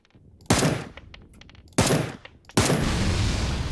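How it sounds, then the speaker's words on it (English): Gunshots fired at a gas can in the PUBG video game: three loud, sharp shots spaced about a second apart, close by, with the last one trailing into a sustained noisy rumble. "I had to shoot that gas can 5 times for it to blow up"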